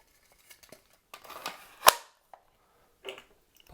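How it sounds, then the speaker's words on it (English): Film for a medium format camera being wound onto its spool, giving soft scattered scrapes and clicks, then one sharp snap as the camera cover closes, and a few lighter clicks after it; close and quiet, with no talking. "just pop it into that little groove there and just start winding it on"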